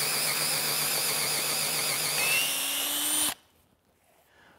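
A power drill with a 1.5 inch bit bores into timber while a pegged mortise and tenon joint is cut, giving a steady close whine for about three seconds that then stops abruptly, leaving near quiet.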